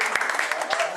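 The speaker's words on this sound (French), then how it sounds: "Applaudissez." Brief applause from a gathering of a university law students' association, a short burst of clapping with voices mixed in underneath.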